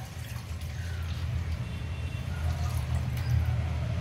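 A quarter litre of thick, undiluted milk is poured into a wide pan, giving a low, soft gurgling splash that grows gradually louder as the stream continues.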